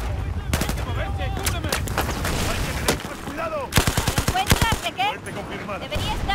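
Rapid automatic gunfire in the video game Battlefield 4 rattles in dense bursts, with an especially heavy volley near the middle and sporadic shots around it, mixed with people talking.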